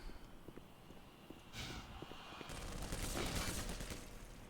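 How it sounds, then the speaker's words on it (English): Bursts of SMG fire aimed at Marines in Black Mesa, a few scattered shots early, then a louder sustained volley, fairly close and with no talking. "I'm just going to have to use my trusty SMG for 3 Marines over there"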